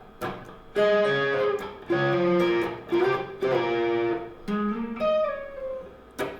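Electric guitar plays a riff through a distortion effect. Bursts of tapped notes and slides form several ringing phrases separated by brief gaps, with no talking.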